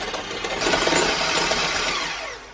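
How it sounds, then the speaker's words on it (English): An electric whisk whips batter for gluten-, lactose- and yeast-free Jaffa cakes to a pale, thick ribbon stage, giving a steady close whirring hum that swells and then eases off. "So now we're going to whisk this for about 6 to 8 minutes"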